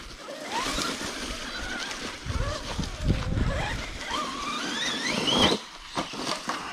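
A stock Team Associated Rival MT10 RC monster truck on a 2S 5200mAh battery jumps in the woods, its electric motor whining up in rising bursts at full throttle while airborne, then landing with a rough thump.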